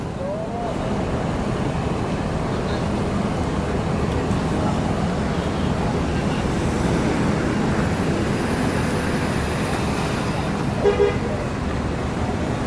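Street traffic at the Pondok Pinang Lebak Bulus bus terminal in Jakarta as intercity buses arrive, a steady dense rumble of engines with a short horn toot near the end.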